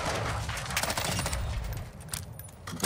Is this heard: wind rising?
no